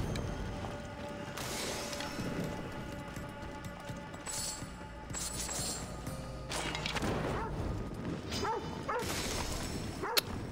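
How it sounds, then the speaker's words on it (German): A dog in the game Assassin's Creed Odyssey barks and whines, short yips and whimpers mixed with clattering game sounds in a busy scene. "Warum folgt der Hund mir?"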